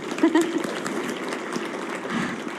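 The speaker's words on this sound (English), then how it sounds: "So applause to you all." Conference audience at an education keynote claps briefly and fairly softly while a voice speaks over it.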